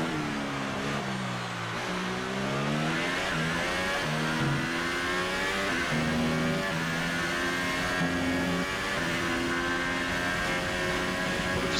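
Formula One race car engine from the F1 2018 game at the Bahrain Grand Prix, a loud continuous high-pitched whine that rises and falls through gear changes for the whole stretch, with no talk over it.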